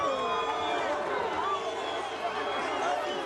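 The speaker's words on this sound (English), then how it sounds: "And you hear the boos from many of the members of this crowd here in the Dodge Theater" Large boxing crowd in the Dodge Theater after a lopsided bout, a dense, steady roar of voices and jeering that stays loud and continuous throughout without a break.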